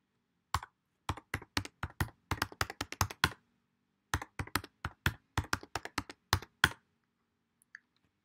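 A password is typed on a computer keyboard during an Ubuntu server setup, with two quick bursts of close, crisp keystrokes separated by a short pause and a faint final tap, no talking.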